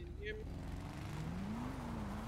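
A motorbike engine idles in a video game, a low steady drone with slowly shifting pitch running throughout, while a voice talks faintly in the background.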